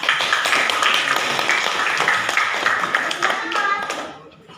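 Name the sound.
classroom applause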